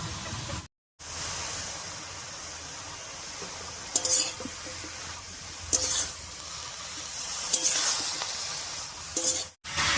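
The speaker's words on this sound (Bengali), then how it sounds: "লবণ দিয়ে খুব ভালো করে নাড়িয়ে নিয়েছি" Pumpkin greens being stirred with salt in a pan: a steady bed of sizzling hiss with a few louder scraping strokes of the spoon spaced every couple of seconds, close and fairly quiet, with no talking.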